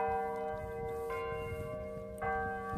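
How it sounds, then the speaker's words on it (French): Church bells in Cotignac ring for evening mass, sustained and resonant tones with fresh strikes layered in at intervals, heard at a moderate distance over quiet outdoor ambience. "Les cloches sonnent pour appeler à la messe du soir,"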